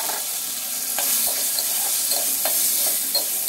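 Boiled chickpeas being stirred into a spice mixture in a hot pan while cooking chickpea bhuna: a steady close sizzle with soft, repeated scraping strokes of the spoon and no talking.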